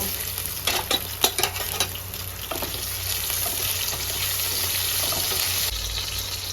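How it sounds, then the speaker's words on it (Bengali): Eggplant slices frying in oil already used for frying fish give a steady, close sizzle, with a few clattering stirs early on and no talking. "মাছ ভাজার তেলে আমি এবার বেগুনগুলো ভেজে নেব"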